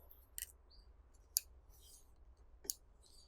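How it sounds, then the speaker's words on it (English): Paper being folded and creased on a bookbinding board gives three short, crisp crackles spaced about a second apart. They are quiet and close, with faint room hush between them and no voices. "let's make a fold here"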